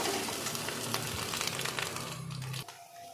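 Maggi noodles with masala frying in a wok give a steady crackling sizzle that stops suddenly near the end, leaving near quiet.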